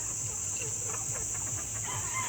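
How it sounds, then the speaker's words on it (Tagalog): Chickens cluck in short, soft bursts nearby, accompanied by a constant high insect-like whine and low background rumble. "Daming manok oh"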